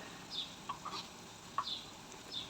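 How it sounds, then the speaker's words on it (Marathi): Spices, including salt, turmeric, chilli powder and cumin powder, are stirred into a pan of frying tinda and chana dal curry. A faint, soft sizzle runs under a few light scraping clicks from the spoon. "छान प्रकारे मिक्स करून घेऊया"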